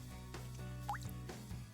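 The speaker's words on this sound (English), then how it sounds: "Show you the drips." Water dripping indoors, with a few quiet separate drips and a small plop over a steady low hum.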